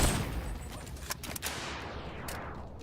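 Gunfire from the yellow gun in the VR game Boneworks: a loud opening blast that slowly decays, then several sharp shots spread over a few seconds, with no voices.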